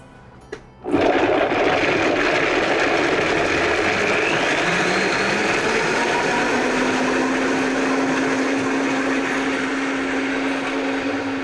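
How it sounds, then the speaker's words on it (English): A countertop blender whirs through a vegan miso ginger sauce, switching on after a brief clatter and then running as a loud, steady motor whine with a sustained tone that shifts slightly as the mixture smooths out. "we'll run the blender for about a minute just to be able to process everything and make it really smooth"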